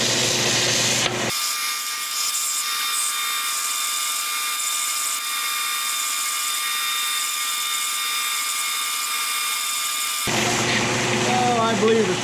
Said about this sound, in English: we're gonna go ahead and polish on this a little more.